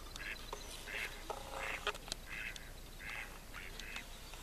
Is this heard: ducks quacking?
yes